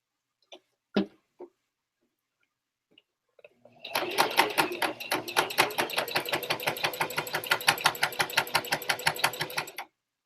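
A sewing machine stitches a seam in one continuous run of rapid, even needle strokes, loud and close, after a few scattered handling clicks and a short pause.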